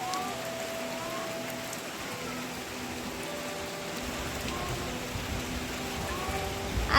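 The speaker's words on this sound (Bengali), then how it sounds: "দেখো পুরো সকাল থেকেই বৃষ্টি হয়ে যাচ্ছে" Heavy rain pours steadily onto a courtyard, a dense continuous hiss of drops with a faint low hum underneath, rising slightly toward the end.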